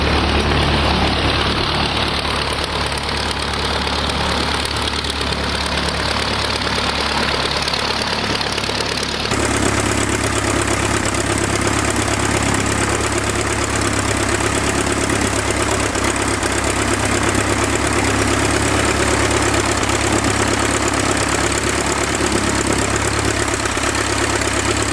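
A 1912 Taube F aircraft engine runs outdoors in wind, a loud, steady rumbling drone throughout. A little under halfway through, its tone shifts abruptly as the speed changes, then holds constant with no voices.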